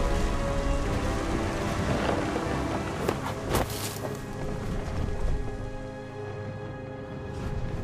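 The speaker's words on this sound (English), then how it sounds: "Thunder sounded much too close and full of angry power." Heavy rain pours steadily in the game What Remains of Edith Finch, with a low rumble of thunder swelling midway, all fairly loud and continuous with no voices over it.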